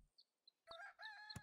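A short rooster crow sounds in Super Auto Pets, a brief cartoonish cock-a-doodle-doo with a thump, quiet and alone.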